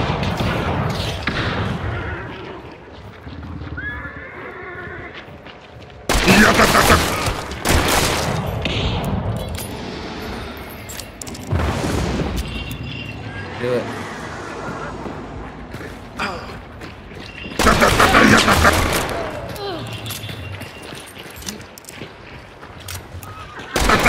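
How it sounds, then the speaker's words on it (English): An SMG in Hunt Showdown fires loud bursts of rapid gunfire with heavy booming shots among them, amid muffled thumps and game ambience, while someone talks over parts of it. "Did you know Hunt Showdown has an SMG?"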